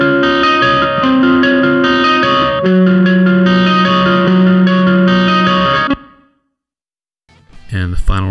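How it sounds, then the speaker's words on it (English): A Gibson 335 electric guitar plays sustained distorted chords through chorus and effects in a recording studio, loud and steady for about six seconds, then cuts to silence before a voice briefly begins to speak. "So the Gibson 335 sounds like this."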